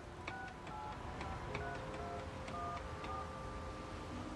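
An old-fashioned telephone is dialed in the video game 13 Sentinels: Aegis Rim, giving a quick series of short tonal beeps and clicks in an irregular rhythm over a low background hum, with no speech.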